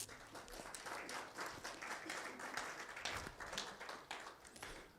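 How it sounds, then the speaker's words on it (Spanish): Church congregation applauding throughout, a dense steady wash of clapping with scattered louder claps and faint voices mixed in. "Dele un aplauso muy grande al Señor."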